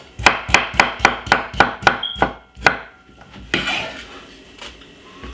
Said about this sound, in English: cut up a medium-sized cucumber